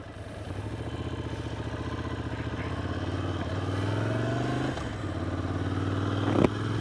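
A motorcycle engine close up on a climbing mountain road in the Cévennes near Alès, rising in pitch as it accelerates, with gear shifts and a brief clatter near the end, no talking.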